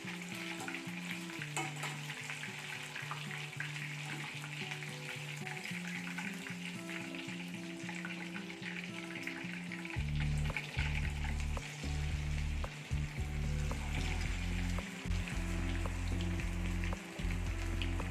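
Fish fries in a pan for its second batch, a steady crackling sizzle throughout with faint stirring, growing louder and denser about halfway through.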